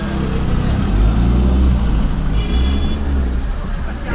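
Car maneuvering to park on a street in Mussoorie, a steady low engine rumble amid busy roadway traffic noise, with voices talking throughout.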